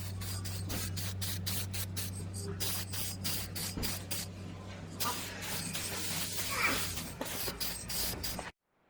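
Aerosol spray paint can hissing in a series of short bursts, then a longer sustained spray before cutting off, close by with a steady low hum beneath.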